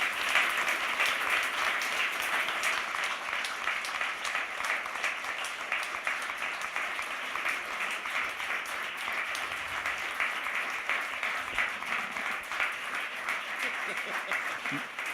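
Steady, dense crowd applause from a conference audience honouring the organizing team, continuous and even for its whole length, with some voices mixed in underneath.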